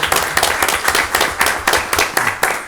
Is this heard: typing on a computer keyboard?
no